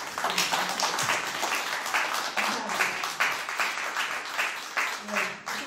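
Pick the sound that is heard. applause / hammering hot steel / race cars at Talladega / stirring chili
applause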